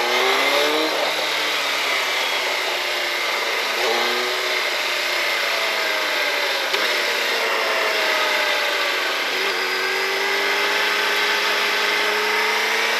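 A Suzuki Hayabusa motorcycle with a quick shifter accelerates hard, its engine note climbing in repeated rising sweeps between gear changes, loud and close with steady wind rush throughout.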